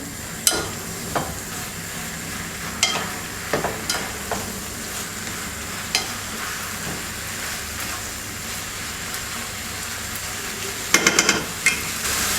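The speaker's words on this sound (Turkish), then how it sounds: "Kaynar suyunu döküyorum." Boiling water is poured into a mixture in a home kitchen, giving a soft, continuous hiss with scattered light clinks and taps from utensils, no talking.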